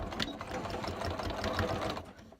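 Sewing machine stitching a fabric shopper bag along its webbing strap, a steady close whirring run of rapid needle strokes that continues for the whole stretch before stopping abruptly at the end.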